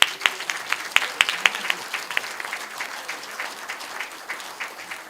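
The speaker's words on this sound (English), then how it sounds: "I ask you to give him a big round of applause" Audience at a professorial inaugural lecture breaks into applause, a lively burst of claps with a few sharp loud hits early on, then settling into steady, slightly thinning clapping.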